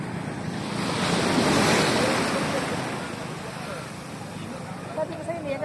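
Sea waves wash and surge around a dragon boat in Zambales, a broad rushing roar with wind buffeting the microphone, swelling in the first seconds then easing off.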